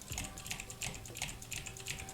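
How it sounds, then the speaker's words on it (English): Rapid clicking of a computer keyboard being typed on, steady and fairly quiet, with light key strikes in a continuous rhythm and no talking. "I'm sorry if you guys can hear my keyboard in the background."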